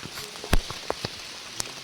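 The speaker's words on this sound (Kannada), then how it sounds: "ಆಗಲೇ ಮಳೆ ಬರ್ತಾ ಇದೆ" Rain falls on a trek near Sakleshpura, a light, close patter of scattered drops striking surfaces in uneven taps over soft background hiss.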